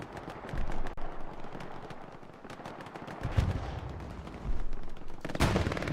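Machine gun fire crackles in the video game Hell Let Loose on Omaha Beach, repeated bursts near and far with heavy thuds and distant booms in between.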